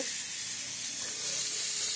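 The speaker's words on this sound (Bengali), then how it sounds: "এবার আমি তুলে নেব আর একটু ধনে পাতাও দিয়ে দিলাম একসাথে ভেজে নেব" Spice paste with black cumin frying in a pan with coriander leaves, cooked for a Bengali katla fish kalia: a steady, close, even sizzle throughout with no talk.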